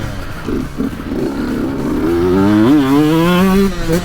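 A Sherco 125 two-stroke enduro motorcycle works along a taped enduro course, engine note climbing and wavering in pitch as the rider opens the throttle, loud and close, with a rougher, lower rumble beforehand.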